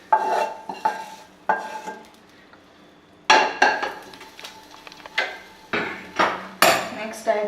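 Fried onions and potatoes being stirred into beaten egg for a Spanish omelette, with a utensil clattering and scraping against the pan or bowl in repeated bursts, loud and close.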